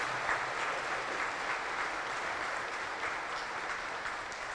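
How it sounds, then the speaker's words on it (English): Audience at a cadet ceremonial review applauding the staff, a steady dense round of clapping from a sizable crowd throughout. "may I ask a good big applause to our staff here"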